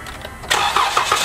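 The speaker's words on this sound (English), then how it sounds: "See if it starts her up." A car engine, jump-started with a portable jump starter pack, cranks briefly, then catches and starts, settling into a steady running hum.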